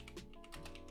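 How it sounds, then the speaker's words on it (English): Quick run of keystrokes on a computer keyboard, close and fairly quiet, a short burst of taps with no voices. "If I type in Wemby"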